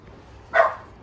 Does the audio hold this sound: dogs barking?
yes